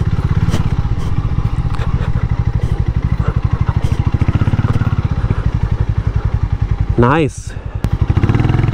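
A Harley-Davidson X440 motorcycle is ridden off-road in Goa, its engine thrumming in steady close pulses throughout. The engine dips briefly near the end, and a voice speaks once.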